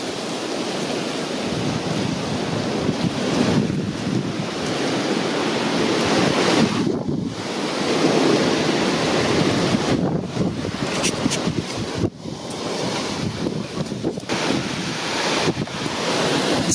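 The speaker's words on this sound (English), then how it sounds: "It's so windy, I'm fighting to hold the camera up." Strong wind buffets a coastline during a storm, a loud, continuous roar of gusts and microphone rumble blended with crashing surf, swelling and dipping in waves across the whole stretch without any voices.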